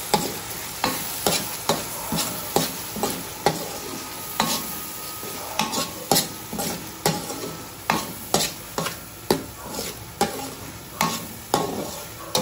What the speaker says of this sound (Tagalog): Tapos lagyan natin ng paminta. Haluin natin.